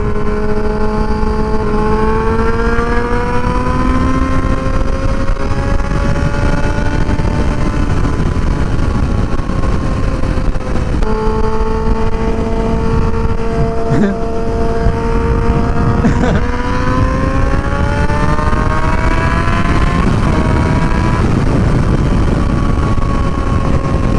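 A Yamaha R6 sport motorcycle revving up through the gears on a road ride, the engine note climbing in pitch, dropping at each shift and rising again, loud and steady under wind noise.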